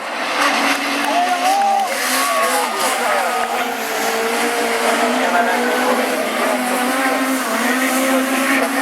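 Division 1A rallycross cars race at Lessay in the 2013 French championship, a loud, continuous roar of engines with revving pitch sweeps, under a commentator's voice.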